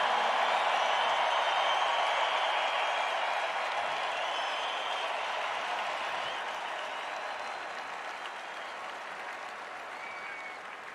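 A full NFL stadium crowd claps and cheers in sustained support of Damar, a dense wash of applause that holds steady, then gradually eases and thins toward the end.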